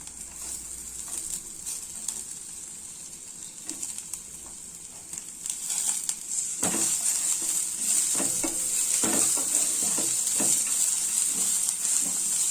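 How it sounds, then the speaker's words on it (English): Onion tipped into a hot pan for veg donne biryani, breaking into a loud, steady high sizzle after a quieter stretch with a few stirring scrapes, the frying hiss holding on to the end with no talk. "To this, now let us add the onion."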